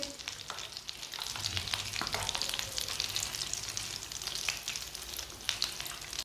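Potato tikki frying in hot oil, a steady dense sizzle and crackle with occasional stirring clinks, close and continuous with no voices.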